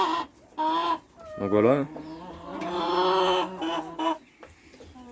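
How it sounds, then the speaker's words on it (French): Laying hens clucking and squawking in a farm coop, several close birds calling in short bursts and drawn-out cackles, with a voice briefly speaking among them. "les poules pondeuses elles sont là"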